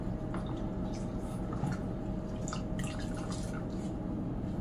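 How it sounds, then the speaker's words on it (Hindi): A cleansing sponge is dipped in water again during an aloe vera skincare routine, giving soft scattered drips and light splashes over a steady hiss of room background, close and fairly quiet, with no talking. "फिर से हम स्पंज को डुबा रहे हैं इस पानी में।"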